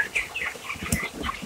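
Broiler chickens at a poultry farm cluck and squawk close by in a brief, busy burst, with faint wing flapping among the calls.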